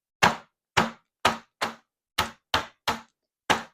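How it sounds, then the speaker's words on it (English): Hammer whacking store-bought chicharron into smaller pieces for plaza tacos, eight sharp, close knocks spaced at uneven intervals with silence between each crunchy strike. "with a good hammer, give it a little whack"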